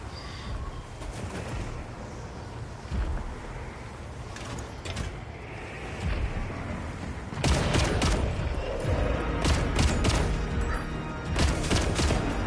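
Heavy bowgun firing normal ammo in Monster Hunter Wilds, with repeated sharp shots in quick bursts over layered in-game clatter and ambience, growing denser and louder in the second half.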